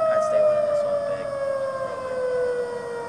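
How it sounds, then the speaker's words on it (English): A steady siren blares loudly and continuously, its tone sliding slowly downward, with no voices over it. "Does anybody hear that? That's the upset siren. They're blaring."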